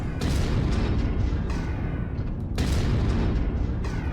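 Long-range missile ammunition exploding in the MechWarrior video game: a dense, continuous barrage of loud booming blasts with fresh bursts layered over one another throughout, no talking.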